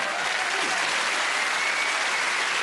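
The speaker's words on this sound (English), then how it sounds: "that's worth a round of applause" Studio audience applause on a variety game show, a loud, dense burst of clapping that holds steady for a couple of seconds.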